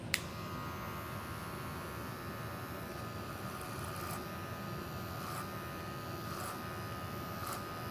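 Electric hair clippers drone steadily and continuously at a barbershop, blending clipper over comb, with a few faint clicks over the unbroken buzz.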